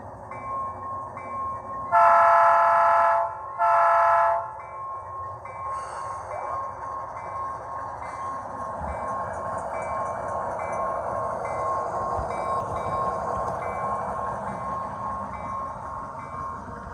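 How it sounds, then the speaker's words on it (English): An Athearn Genesis HO scale Dash 9 model locomotive with a Tsunami sound decoder gives two loud horn blasts, then a steady diesel engine drone with a faint rhythmic clank, heard alone without talk. "Let's go ahead and see what this Athearn unit's got now with the Tsunami sound here."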